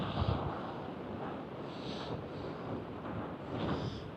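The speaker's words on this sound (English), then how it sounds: "But, extremely windy today." Strong wind blows across a beach at Pembrey Country Park, a steady loud rushing roar buffeting the microphone throughout, swelling slightly in gusts, with no voices.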